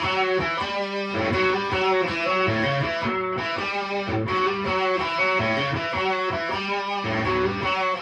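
A distorted electric guitar riff from a 1971 song drives a full rock mix, loud and steady throughout with dense harmonic chords and a pounding rhythm.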